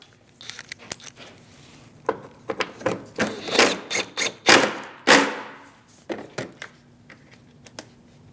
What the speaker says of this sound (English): Install the 10mm bolts,